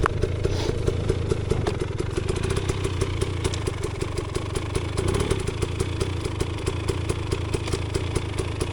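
A KTM motorcycle engine on a fall trail ride runs steadily with rhythmic revving and clattering pulses, close and loud throughout, with no talk.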